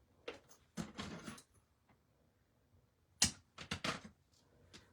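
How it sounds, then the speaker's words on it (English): Sharp snips of cutters trimming excess wire or material from a handmade birthday charm dangle, a few close, distinct clicks with short bursts of rustling between them. "I'm going to cut the extra off."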